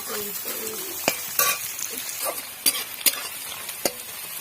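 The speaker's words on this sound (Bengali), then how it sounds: "কাঁচা লঙ্কা পেঁয়াজটা একটু ভাজা ভাজা হয়ে গেছে" Onions and green chillies sizzling softly in a pan, with scattered scrapes and clinks of a spatula stirring, close by; a voice murmurs briefly near the start.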